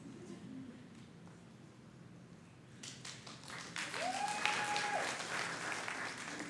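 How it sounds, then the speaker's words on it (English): At a university convocation, applause swells from a sparse scattering of claps into fuller clapping from the audience partway through, moderately loud in a room, with a short whistle-like tone cutting in midway. "Might be good if we waited on the applause to sort of keep the space a little bit open"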